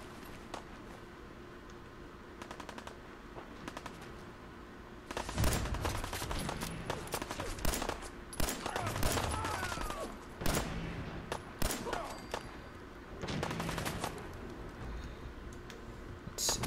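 Fallout 4 gunfire rings out in a fight with raiders, with bursts of rapid shots and scattered single cracks following a quiet opening, plus pauses between volleys.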